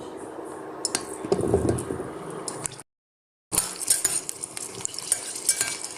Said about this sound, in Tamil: முதல்ல நல்லா நெல்லிக்காயை வதக்கிக்கலாம்